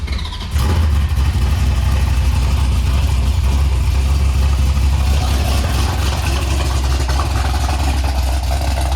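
A C4 Corvette engine cold-starts after a short quiet moment, then settles into a loud, deep, rumbling idle close by that holds steady for the rest of the stretch, with no talking over it.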